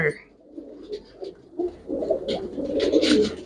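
Domestic pigeons kept for sale, one with black tail feathers, coo in low, repeated rolling calls that build toward the end, with faint voices and movement around them.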